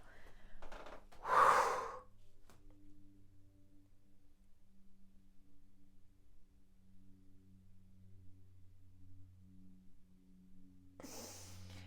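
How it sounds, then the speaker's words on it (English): Agni Sara breathwork, with the exhale, a pause and the belly drawn in and up: one strong, close breath is forced out near the start, then a long near-silent hold over a faint steady hum, and a second breath comes at the end. "So again, it's the exhale, pause, draw in and up, and then let that belly just do what it naturally does."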